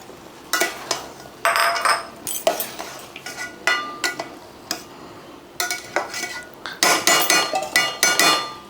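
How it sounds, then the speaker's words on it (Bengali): Basanti pulao is stirred in a pot with the lid lifted, a spoon scraping and clanking against the metal in uneven bursts. Loud, close clatter alternates with brief pauses, and the stirring grows busier toward the end. "ঢাকাটা উঠিয়ে এইভাবে নাড়িয়ে দিতে হবে যাতে করে নিচে লেগে না যায়"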